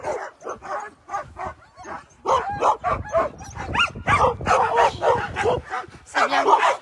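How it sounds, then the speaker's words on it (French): Eager sled dogs at the start of a mushing race bark, yip and whine continuously and fairly close, a busy overlapping chorus with a voice talking among them. "Et ouais, ils ont envie d'y aller, ces petits chiens."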